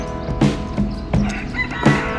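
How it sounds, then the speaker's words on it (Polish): Hens cluck repeatedly in short bursts with rooster calls mixed in, several birds nearby along park paths in Icod de los Vinos, Tenerife, in a busy, continuous flock chatter. "Cały czas słychać gdakanie, pianie kogutów."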